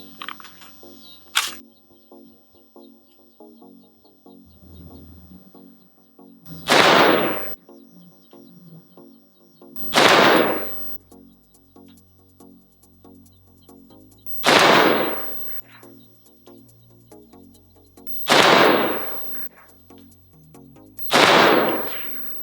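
Rifle shots from a 5.56 rifle with a 16-inch mid-length barrel firing heavy 77-grain Defender ammunition, five loud sharp cracks spaced a few seconds apart, each ringing off into a short echo, with no talk.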